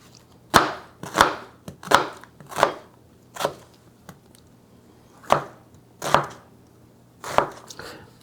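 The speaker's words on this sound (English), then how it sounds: "we are going to just cut this onion and then gonna saute that" A knife chops an onion on a cutting board with about a dozen crisp, evenly spaced thuds, close and clear in an otherwise quiet kitchen.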